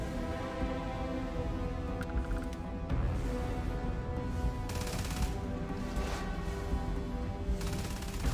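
Rapid gunfire crackles through a space fight in Starfield, dense bursts of shots stacking over a constant loud background rumble, with sharper volleys in the latter half.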